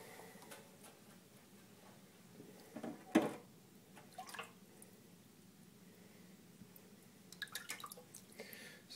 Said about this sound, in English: I can dip it in water, get some more water on it.